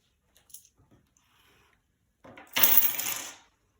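A few faint clicks lead into a bright metallic burst as several coins drop and clatter together for about a second, close and alone.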